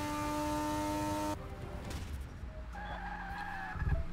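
A car in Forza Motorsport 6 spins out, its tires skidding and squealing in a loud sustained burst that cuts off abruptly, followed by quieter engine and tire noise.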